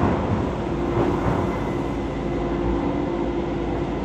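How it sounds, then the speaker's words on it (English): A train pulls out of a station on the line toward Stratford, giving a steady, loud rumble of rolling wagons with a faint hum over it and no talking. "We're going to see this train go out if we can."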